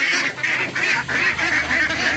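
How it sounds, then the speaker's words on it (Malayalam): Domestic ducks in a farm coop give a continuous, fairly loud chorus of overlapping nasal calls, pulsing in repeated bursts with no voices. "താറാവുകൾ."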